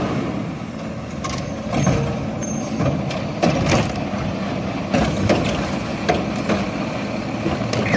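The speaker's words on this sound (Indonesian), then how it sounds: "Wow, truk sampah." A garbage truck's engine rumbles steadily while sharp hisses of air brakes and mechanical clanks break in at irregular intervals, fairly close and loud.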